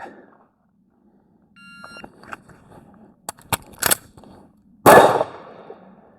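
A Steyr L9-A2 pistol drill at a range: an electronic timer beep opens, then quiet, a sharp click, a metallic slide rack, and finally one loud gunshot near the end.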